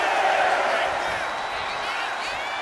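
A wrestling arena crowd in the WWE 2K25 video game roars and cheers as a loud, broad wash that fades slightly over a couple of seconds, with a commentator talking over it.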